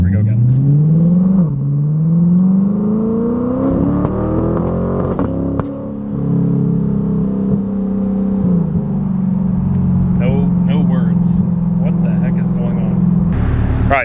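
Chevrolet Corvette C8 fitted with a Paragon Performance exhaust, recorded from inside the cabin: a loud, steady engine drone climbs through a long rev, eases off, then settles into a sustained cruising hum, with voices talking over it.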